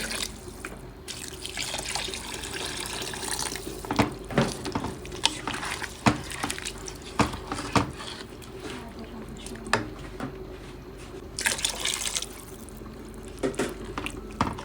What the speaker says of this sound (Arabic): هسه راح أضيف ملعقة كبيرة ملح وأضيف ماء